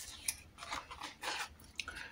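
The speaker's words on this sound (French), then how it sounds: "Ensuite, là, je vais prendre les ciseaux. Je préfère faire au ciseau." Scissors cutting fabric for a small handmade incense pouch, with a few quick close snips and crunchy cuts over about two seconds.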